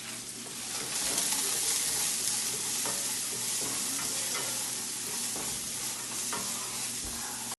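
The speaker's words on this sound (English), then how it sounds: "Then we need to stir it very well." A spoon stirs a pot of groundnuts for a Ghanaian dish, scraping and knocking against the pot in an uneven rhythm over a steady, close sizzle, with no voices.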